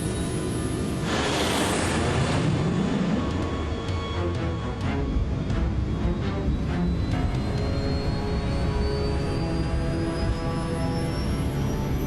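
Airliner jet engines spool up to takeoff thrust on a runway, a loud, steady roar with a rising whine that climbs gradually over the full run, joined by broadband rumble and a brief gust of noise early on.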